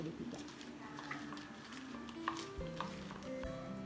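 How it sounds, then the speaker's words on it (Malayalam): Prawns being stirred with masala spices, fennel powder and salt, giving soft scraping and clinking of a utensil against a pan with faint sizzling, steady and close, under light background noise. "ഈ മസാലകളെല്ലാം പ്രോണുമായിട്ട് നന്നായിട്ട് ചേർത്ത് പിടിപ്പിക്കാം."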